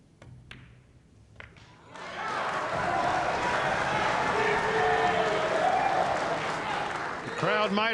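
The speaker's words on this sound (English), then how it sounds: "The crowd might erupt after this 9-ball. Indeed." A crowd at a Mosconi Cup pool match breaks into loud, sustained applause and cheering after a few quiet clicks, the roar holding steady for several seconds.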